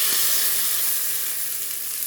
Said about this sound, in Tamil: உளுத்தம் பருப்பு, கருவேப்பிலை போட்டு தாளிச்சிக்கு ஊற்றிக்குங்க